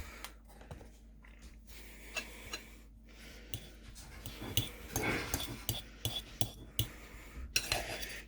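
A spoon scrapes and taps against a bowl while deviled egg filling is stirred and mashed, with soft irregular clinks that grow busier and louder toward the end, close by and without talk.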